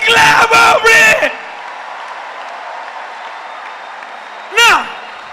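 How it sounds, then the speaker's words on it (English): A congregation claps in praise during a church service: after a few shouted exclamations, a steady wash of clapping fills the room, and a short vocal shout cuts in near the end. "Give Jesus a clap of praise."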